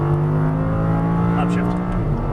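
An Audi R8 on a race track pulls hard at full throttle, its engine a loud, steady, close roar with a slowly rising pitch.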